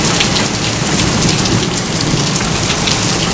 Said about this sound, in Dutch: Jullie moeten echt zien hoe hard het regent.